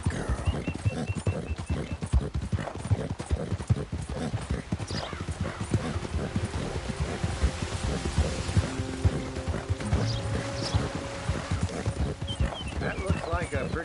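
Steady clip-clop of a video game horse's hooves at a walking rhythm, with a brief whinny and faint background music.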